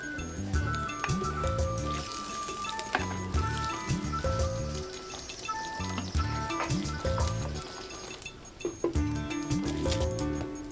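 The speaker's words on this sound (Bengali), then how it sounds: "বেশি করে পানি দেয়া হচ্ছে ঝোলের জন্য।" Water is poured into a meat curry cooked with whole garlic cloves to make gravy, giving a sloshing, squishy liquid sound with occasional clinks of utensils close by.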